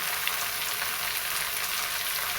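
Steady hiss and sizzle of green math (amaranth) leaves hitting hot oil with browned onions, a continuous bright crackle with no voices.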